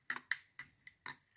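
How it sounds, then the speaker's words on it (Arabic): Cosmetic anti-aging cream mixture being stirred in a cup: a quiet series of about six light clinking taps of a utensil against the cup, evenly spaced, with no one talking. "كما ترون. نحرك جيدا"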